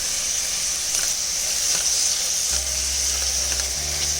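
Masala frying for nombu kanji on medium-low heat, a steady close sizzle and hiss with a few faint stirring touches, no voices.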